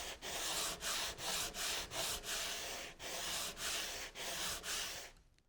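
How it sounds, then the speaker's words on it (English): A sanding block rubs hardwood edging flush against a plywood panel in a woodshop, with about a dozen steady back-and-forth strokes, each a close, loud gritty swish separated by brief pauses, stopping near the end. "I can sand just the edging, getting it nice and flush with my panel without worrying about damaging the plywood veneer"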